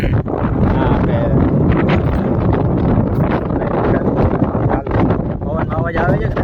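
Strong seaside wind buffets the microphone in loud, continuous roaring gusts, with someone talking faintly beneath the blustering noise.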